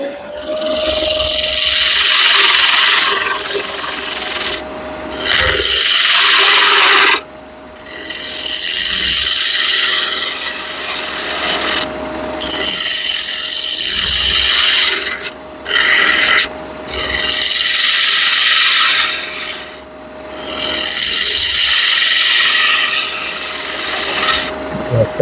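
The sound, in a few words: wood turning on a lathe, cutting down ice cream scoop handle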